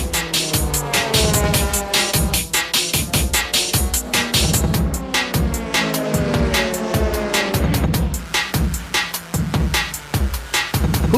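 Toyota Supra JGTC race cars scream past on track, engines rising and falling in overlapping pitch sweeps, loud and close with rapid gear changes and constant roar.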